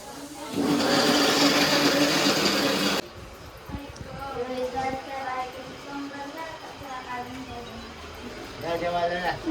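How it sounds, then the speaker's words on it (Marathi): A kitchen mixer grinder whirs loudly for a few seconds while grinding chicken for momo stuffing, then stops, and people talk afterward. "आता चिकन ते मिक्सरला वाटून घेत जरा"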